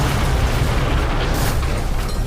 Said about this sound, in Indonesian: tiba-tiba ledakan dahsyat terjadi di jalur lain